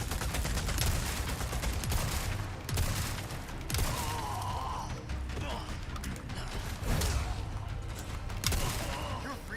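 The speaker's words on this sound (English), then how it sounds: "Ah, stop shooting me!" Gunfire from the Resident Evil 4 Remake video game comes in repeated bursts and sharp shots across the whole stretch, with mechanical clatter and a voice speaking over it.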